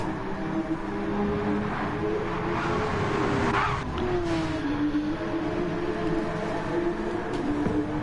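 Porsche Cup race cars lapping the Red Bull Ring, a continuous engine drone with rising and falling revs as cars pass, heard at a steady moderate distance throughout.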